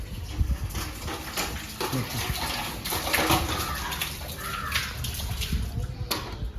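Water splashes and pours as someone draws it from a temple well for washing hands and feet, with steady splashing and gushes over outdoor ambience and occasional voices.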